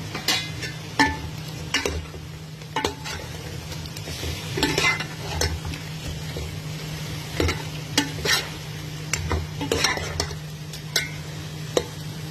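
Chicken tinola with black pepper sizzles steadily in a pan under a constant frying hiss, while a utensil stirs and scrapes against the pan in irregular close clinks and taps, with no talking.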